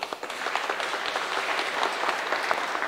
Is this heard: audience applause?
yes